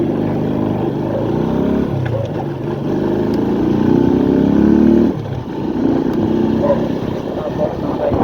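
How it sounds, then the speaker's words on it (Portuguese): A motorcycle engine with a strange fault noise runs steadily and loud, a continuous low rumble that swells and briefly dips midway, with speech-like sounds in the mix. "por esse barulho aí da minha moto, do motor da minha moto, você tira."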